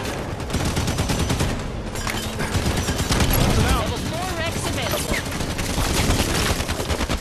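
Rapid automatic gunfire in the video game Halo 5, dense bursts of shots and explosions filling the whole stretch, with a voice talking over the loud, continuous combat.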